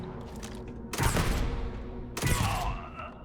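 Gun fired in Starfield, two heavy, booming shots about a second apart, each ringing out loud over a low game hum.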